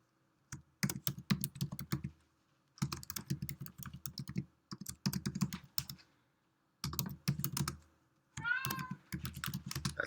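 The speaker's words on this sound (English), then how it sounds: "That's my cat." A house cat meows once near the end, briefly and fairly close, over bursts of computer keyboard typing that fill most of the clip.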